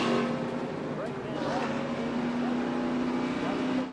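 Onboard an ARCA series stock car racing at Daytona: a loud, steady high-revving engine drone holds throughout, with commentary voices running over it.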